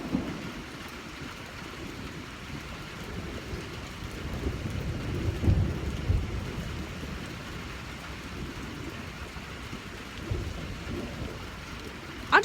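Steady rain falls with a low, rolling rumble of thunder building in the middle, a sustained soft hiss over deep booming.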